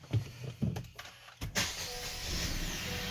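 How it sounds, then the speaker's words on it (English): A 2018 Honda Accord Sport engine cranks and catches on a cold start after a few short clicks and thumps, then settles into a steady, fairly loud idle with a broad hiss. "Cold start."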